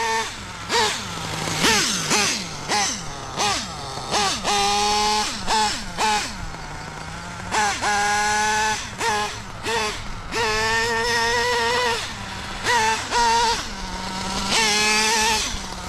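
An HPI Savage X nitro RC truck with a Novarossi 28 engine, running rich while warming up, blips through a series of sharp rising revs and buzzing high-pitched whines, close and loud with short pauses between bursts.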